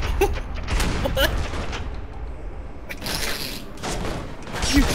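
Loud, dense gunfire from the video game Alpha Protocol, a shotgun in play, with sharp bursts layered over a continuous rumble of action.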